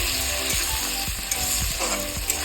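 Chopped tomato frying with onion in hot oil: a dense, close sizzle with a few rhythmic stirring scrapes against the pan, and no voices.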